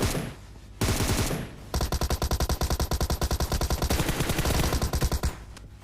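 M4 and M762 rifles fire in PUBG Mobile: a brief burst, a pause, then a long, loud, rapid automatic spray of evenly spaced shots with no talk.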